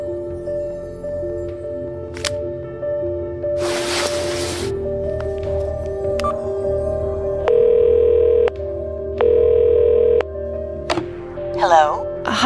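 Phone dialing and ringing in the adventure game Cognition: a series of short tonal beeps as the number is keyed, then steady ringback tones, over a continuous game music bed.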